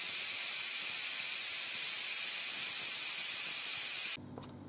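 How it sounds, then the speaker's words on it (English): Steam hisses loudly and steadily from the manual pressure release of a Ninja Foodi pressure cooker cooking a chuck roast, a bright continuous jet that cuts off abruptly near the end, leaving quiet behind. "We're about to manually release the pressure."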